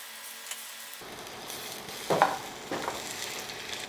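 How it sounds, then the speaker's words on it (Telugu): Bottle gourd balls shallow-fry in hot oil, a soft sizzle that swells as pieces are placed in, with a couple of brief louder crackling bursts, close and without talk. "దీన్ని డీప్ ఫ్రై చేయాలి యాక్చువల్గా, కానీ నేను షాలో ఫ్రైయే చేస్తున్నా"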